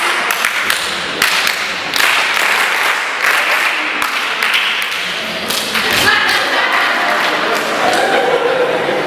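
A crowd at a teen summit claps along in loud, rhythmic bursts, with sharp hand strikes and thumps recurring roughly every second and a voice occasionally heard between them.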